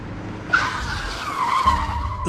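A car pulls over with a rising tire skid and squeal in a drama scene, one sustained screech of about a second and a half over a low engine rumble.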